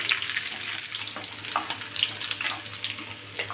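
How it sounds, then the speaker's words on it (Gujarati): Coriander leaves fry in oil until crisp, a soft continuous sizzle with scattered small crackles and pops, close and moderately quiet, no one speaking. "ધાણાને પણ એકદમ સરસ એવા ક્રિસ્પી થાય ને ત્યાં સુધી આપણે ફ્રાય કરીશું"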